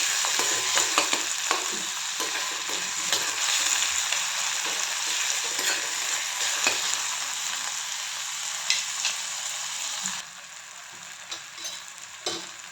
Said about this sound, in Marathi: आणि टोमॅटो पण छान परतून घ्यायचा तेलामध्ये. मिक्स करून घ्यायचं सगळं